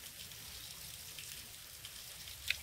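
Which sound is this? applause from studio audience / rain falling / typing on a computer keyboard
rain falling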